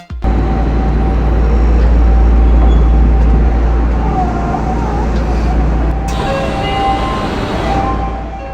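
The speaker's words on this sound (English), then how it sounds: "Trains in Japan moan for some reason." A Japanese passenger train gives off a steady, loud low rumble and drone with a faint moaning tone running throughout, nearby and continuous, with a slight shift partway through.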